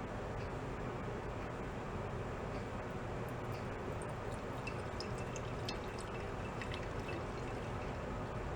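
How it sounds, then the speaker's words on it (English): Fresh fuel runs from a garage-sale pressure washer's fuel line into a cup in a faint, steady trickle, close by with no talking. "We'll put a cup under here and we'll let it purge some fresh fuel through that line first"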